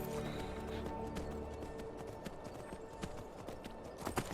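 Horse hooves gallop in a steady rapid clip-clop in the video game Skyrim, continuous and close, over a dense background of game sound.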